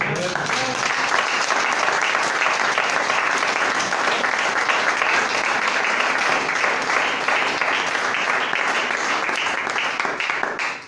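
Congregation at a church sermon applauding in a sustained, dense wash of clapping that stays loud and steady for about eleven seconds, with crowd voices mixed underneath.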